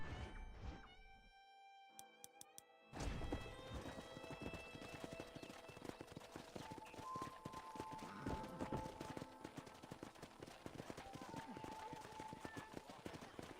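Horses clip-clopping in the video game Red Dead Redemption, a steady run of close hoofbeats under music after a brief quiet opening, with a horse whinnying and a voice speaking over the ride.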